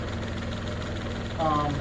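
A New Holland 757C backhoe tractor's diesel engine idles steadily while backing up over lumber, with a brief louder rise in revs near the end.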